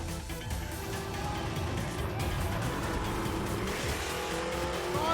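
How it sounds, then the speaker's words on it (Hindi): A rally cross car races across a sandy dirt track at the 2024 Hub Rally Cross, its engine roaring and rising in pitch with squealing, skidding tires throughout. "और गाड़ी अपने ट्रैक के ऊपर आपको नजर आ रही होगी, धूल उड़ाती हुई और फर्राटे भरती हुई ये गाड़ी।"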